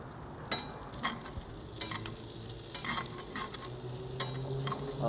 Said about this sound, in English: so let's throw our onions in now